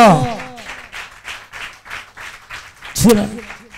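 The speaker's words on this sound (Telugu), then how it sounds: "గట్టిగా చప్పట్లో." A congregation claps loudly in unison during a Telugu church sermon, with a steady run of brisk, rhythmic claps; a voice is heard speaking briefly at the start and again near the end.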